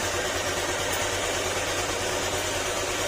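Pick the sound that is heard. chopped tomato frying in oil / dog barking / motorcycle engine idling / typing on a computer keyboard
motorcycle engine idling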